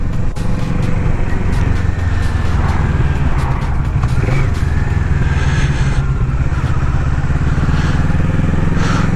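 A restricted Kawasaki Z650 A2 motorcycle engine under way, a loud, steady engine drone with continuous road and wind roar from start to finish.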